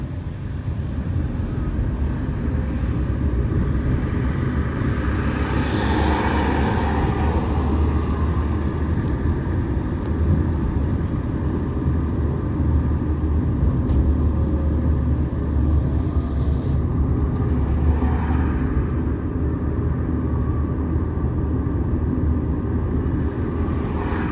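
A car accelerates on a driving test course, its engine a steady low rumble throughout, with a couple of swelling passes, inside the cabin and with no talking.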